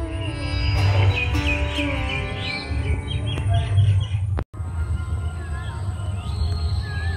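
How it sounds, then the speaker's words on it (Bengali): Various birds call around a pond in a Bengal village, beside a historic water pavilion. Scattered chirps and whistling notes ring out against a steady low outdoor rumble, with no talking. "আশেপাশে নানান পাখির ডাক।"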